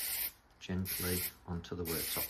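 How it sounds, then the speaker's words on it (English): Lacquer sprayed from a can onto a repaired wood-effect laminate worktop; short close hissing bursts alternate with a person speaking nearby. "Carefully spray the lacquer on and just let it fall"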